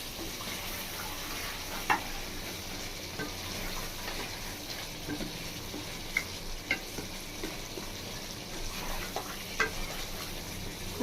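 Mutton masala being stirred as it fries in a pan, a soft continuous sizzle with scattered scrapes and clinks of the spoon against the metal, fairly quiet and steady with no voices.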